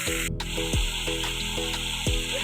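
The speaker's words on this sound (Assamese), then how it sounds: "তাত মই হালধি আৰু নিমখ সানি থোৱা চিকেনবিলাক ফ্ৰাই কৰিবলৈ ল'লোঁ।" Chicken pieces coated with turmeric and salt fry in hot oil in a wok, giving a steady close hiss under a sustained tonal hum that dips and swells.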